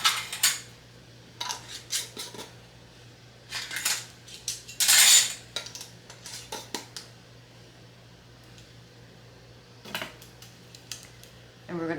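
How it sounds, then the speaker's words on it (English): Metal lids and rings being fitted onto glass canning jars for green beans, clinking and scraping in scattered bursts with a few louder rattles, close by over a steady low hum. "Put our new lids on. And a ring, just fingertip tight."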